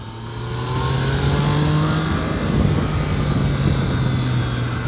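Triumph Tiger 660 Sport motorcycle pulling hard under acceleration, its three-cylinder engine note steady and loud from a close onboard position, with a sustained low drone and wind rush and no talking.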